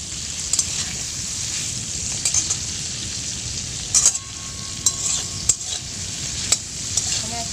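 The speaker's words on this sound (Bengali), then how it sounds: "চিংড়ি মাছগুলো এখন ভেজে নিচ্ছি লবণ আর হলুদ দিয়ে" Prawns frying in a pan with salt and turmeric, giving a close, constant sizzle broken by scattered clicks and scrapes of a stirring utensil.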